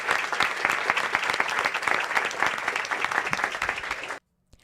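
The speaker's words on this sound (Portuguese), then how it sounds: "Palmas para nossa irmã" A church congregation applauds during a Bible study service in Lausanne, Switzerland, with steady, dense clapping that cuts off abruptly near the end, followed by silence.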